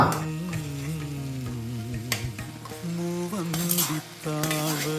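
A spoon stirs jackfruit and rice together in a pot, giving soft scraping and clinking over a low sizzle, with a brief pause near the end before the stirring picks up again.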